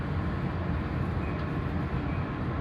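A steady low rumble fills the interior of a moving four-car passenger train, a continuous rolling drone heard from inside the car with no talk over it.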